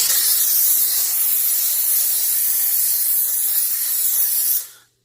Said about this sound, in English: If I turn my steamer on, you'll notice it's way too loud.